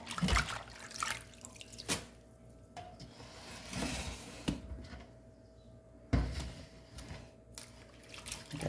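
Amaranth greens being rinsed by hand in a kitchen sink, with close splashing and sloshing water, intermittent knocks and clatters, and quiet pauses between handfuls.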